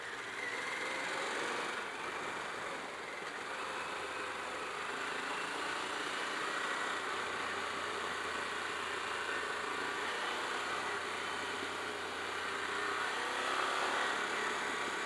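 A Harley-Davidson Pan America Special motorcycle under way gives a steady, broad engine-and-wind roar that stays even throughout and swells slightly near the end, with no voices.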